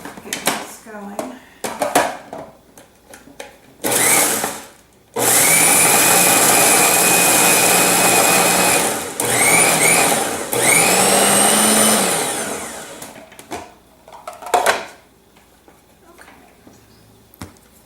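Blender whirring through vegan burger ingredients with onion, running loud in two long bursts with a brief pause between, surrounded by short clatters and handling noises before and after.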